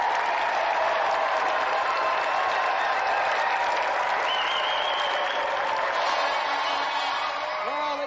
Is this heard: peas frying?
no